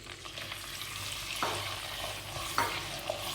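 Desi chicken frying in a handi pot for Lahori murgh cholay gives a steady close sizzle, with a few sharp clinks and scrapes of stirring scattered through it.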